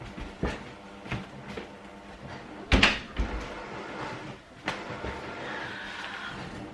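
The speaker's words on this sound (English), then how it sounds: "Hold on, I'm going to shut the door." Indoors, a door is pushed shut with a loud thud and rattle, preceded by some shuffling and handling noises, and quieter bumps follow afterward.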